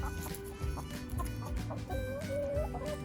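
A hen clucks close by in a garden, a run of short soft clucks and murmurs with a brief rising trill near the end.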